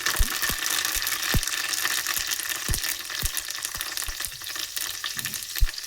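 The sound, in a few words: cumin seeds and curry leaves sizzling in hot oil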